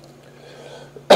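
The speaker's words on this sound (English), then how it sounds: "Still a cough here, sorry." A single sharp cough bursts out close at the end, after a quiet stretch of faint room noise.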